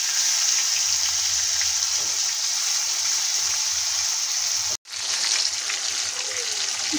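Chopped tomato added to jackfruit curry frying in a pan: a loud, continuous hiss and sizzle of hot oil, close up, broken by one short silence before the frying resumes.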